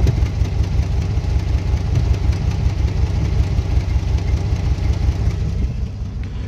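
A carbureted engine fitted with a Holley carburetor idles while running lean, a steady loud low rumble with a rapid even pulse and no distinct pops standing out.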